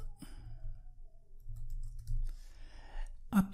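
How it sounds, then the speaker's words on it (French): Several soft computer mouse clicks, close and quiet, spread across the span with low background hum and a sharper click-like burst near the end. "Après, je clique sur OK."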